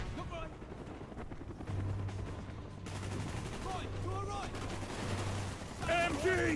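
Machine gun fire rattles in the Call of Duty Black Ops video game amid combat noise, with game voices shouting over the bursts.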